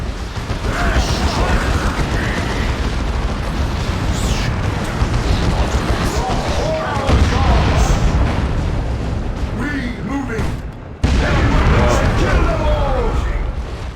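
Sustained booming gunfire and artillery barrages from a Warhammer 40K: Dawn of War 2 Retribution Chaos Space Marines campaign battle, dense and loud throughout with a sharp burst near the end and voices shouting over the din.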